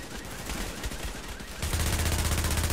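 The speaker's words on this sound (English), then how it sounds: "They're shooting." Gunfire crackles through a firefight in The Division, a dense stream of rapid shots that grows heavier and louder halfway through, with automatic bursts layered over one another.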